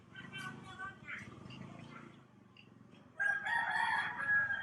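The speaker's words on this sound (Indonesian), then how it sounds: "Anda bisa mendengar ayam jantan." Rooster crowing near a roadside in Indonesia, a couple of bright drawn-out calls rising loudly near the end over background chatter and outdoor noise.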